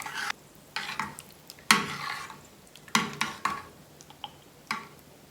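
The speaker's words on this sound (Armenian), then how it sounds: "Այսպես գդալով խառնում ենք, որպեսզի" A spoon stirs a set mixture in a bowl as it dissolves into hot water, giving a series of close, sharp clinks and scrapes in uneven bursts, with no talking.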